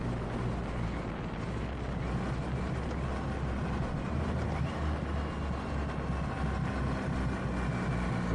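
A 2023 Triumph Rocket 3 GT motorcycle's three-cylinder engine running steadily, a deep, continuous low rumble heard close up and fairly loud, with wind noise and no talking.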